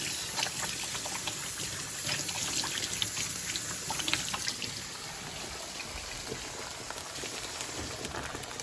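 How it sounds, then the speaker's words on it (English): Hands wash under a running kitchen tap, a faint steady stream of water with soft splashes and rubbing, continuous and unbroken throughout. "Okay, I'm gonna wash my hands."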